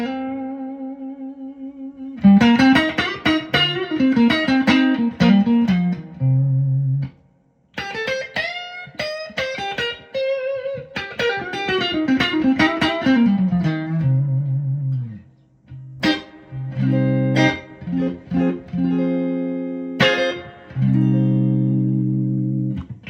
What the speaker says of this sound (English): now I've blended in the normal channel to thicken up the tone a little bit because I'm still playing the Strat